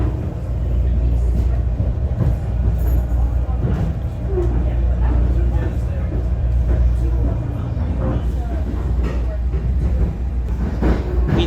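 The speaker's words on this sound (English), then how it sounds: "Departing Newark Penn Station, we immediately crossed the quad-track bridge over the Passaic River." NJ Transit Arrow train crossing the quad-track bridge over the Passaic River after departing Newark Penn Station, a steady loud low rumble of wheels and car body with faint rattles and clicks throughout.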